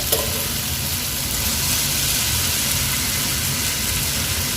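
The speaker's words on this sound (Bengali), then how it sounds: "তো এখন ছোলাটা দিয়ে দিতে হবে।" Chickpeas go into hot spiced oil in a home kitchen pan, giving a loud, steady frying sizzle with a hiss like rain that holds evenly all the way through, with no talking.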